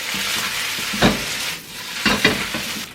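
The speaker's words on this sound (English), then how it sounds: "Then put in the rice noodle. Stir fry it first, okay?" Rice noodles are stir-fried in a hot oiled wok or pan, a constant sizzle punctuated by two or three loud scraping tosses of the spatula, close and clear with no talking.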